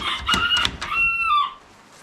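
A rooster crows close by in a shed housing pedigree chickens, including pullets and a young cock, giving one drawn-out call that rises and then falls away, with soft clucking from the surrounding fowl.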